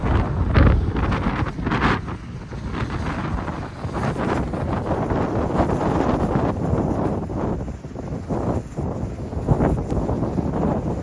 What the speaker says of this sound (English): it's a lot of wind coming out of Bass Strait straight into these hills